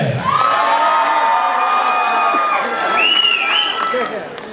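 An audience at a grand finale stage event in Arunachal Pradesh erupts in loud cheering, with sustained shrill shouts and whoops over a lighter layer of clapping that stays close and intense throughout.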